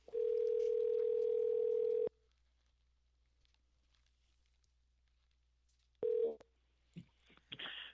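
A telephone dial tone sounds while a radio show connects a caller: a steady, loud two-second tone, then a silent pause, then a brief burst of the tone followed by clicks and faint handset noises.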